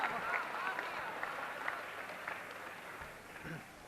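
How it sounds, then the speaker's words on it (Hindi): An audience at a kanya vivah festival poetry gathering applauds a poet, a moderate, fairly distant patter of clapping that gradually thins out, with voices faintly mixed in. "एक बार जोरदार तालियां बजाइए आप सभी लोग"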